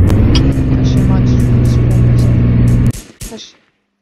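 A car driven in the Roblox video game gives a steady, loud engine drone with a few sharper clicks over it, then cuts off abruptly near the end, leaving brief scattered noises before silence.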